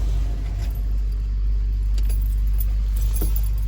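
Keys jangle on the ignition of a Ford F-150 pickup as the key is turned, faint metallic clinks over the deep, steady rumble of the idling truck.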